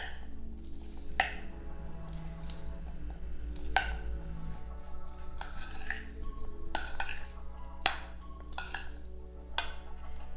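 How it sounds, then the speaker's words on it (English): A spoon stirs cayenne seasoning in a bowl, scraping and clinking against the sides in irregular taps, with a low steady hum underneath and no talking. "Get a spoon, mix it on up."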